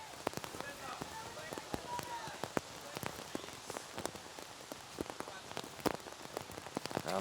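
Raindrops patter and tap on a hard surface at an outdoor archery competition in Shanghai, scattered sharp ticks over a soft wet hiss, steady and fairly close throughout.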